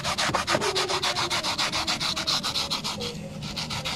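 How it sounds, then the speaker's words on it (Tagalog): A brush scrubs a surface coated in foam cleaner in fast, even back-and-forth strokes, close and rhythmic, about five strokes per second with no pause. "Kuskusin nyo lang po yan."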